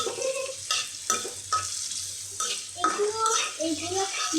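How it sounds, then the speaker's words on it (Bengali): Potatoes frying in a pan with turmeric and being stirred, a steady sizzle broken by repeated scraping stir strokes, with brief voices near the end. "আমি আলুটাকে লাল লাল করে ভেজে আপনাদের মাঝে আবার আসছি"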